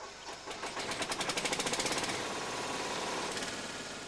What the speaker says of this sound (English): unlock the control box on the crane post and start the engine.